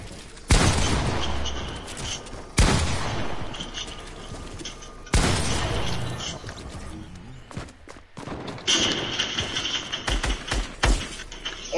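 Sharp, loud bursts of gunfire in a video game at irregular intervals, some in rapid strings, with crashing impacts and lingering game ambience between shots.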